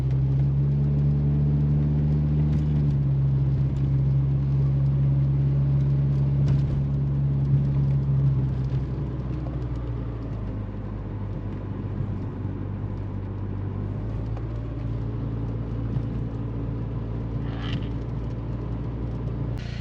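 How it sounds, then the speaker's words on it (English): A 1987 Volkswagen Mk2 Jetta with 180,000 miles idles steadily, its close, even engine hum settling to a slightly lower, smoother note partway through. "Want a cold start? Well, mildly warm start. Right up like a champ."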